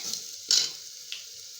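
Black masala and turmeric sauté in a pan with a faint, steady sizzle, broken by a louder scrape of stirring about midway and a softer one later.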